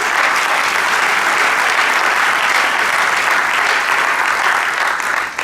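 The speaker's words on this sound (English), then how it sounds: "Let's give you all a round of applause." A large crowd claps loudly and continuously, dense applause holding steady before tapering off at the very end.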